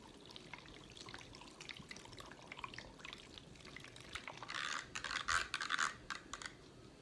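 Electric makeup brush cleaner spinning a brush in water, heard as faint scratchy swishing that swells into a louder burst of splashy, whirring agitation near the end.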